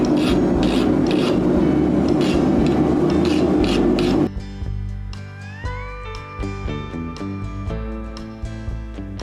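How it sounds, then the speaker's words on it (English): Rhythmic rasping strokes of a chainsaw file scrape back and forth for a few seconds, followed by quieter clinks and tonal ringing. "This is actually a chainsaw file,"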